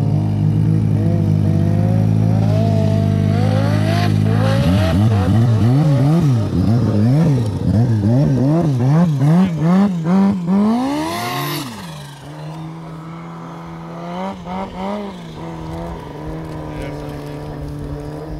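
A turbocharged car engine revs up repeatedly, rising and falling in quick blips that climb to a high scream, then settles back to a lower steady idle, loud and close with people talking over it.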